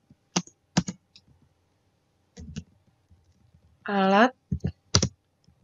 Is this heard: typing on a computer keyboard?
yes